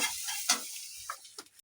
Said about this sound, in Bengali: রসুনটাকে ভাজবো